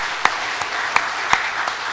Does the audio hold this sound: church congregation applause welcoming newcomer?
yes